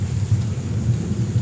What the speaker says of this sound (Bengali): এখন অনেক দিন বৃষ্টি আবার পরে হলো